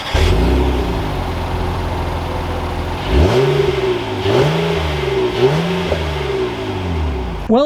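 A 2021 Honda Ridgeline HPD Edition pickup truck engine revs and accelerates, first a steady running drone, then three or four rising surges with shifts between them, close and loud, with no talking.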